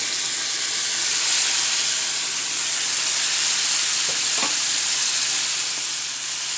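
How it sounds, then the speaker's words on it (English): Chicken fries in hot grease with a steady, dense sizzle and crackle throughout, close and even, with a couple of faint knocks partway through and no talking. "my chicken is really, really frying"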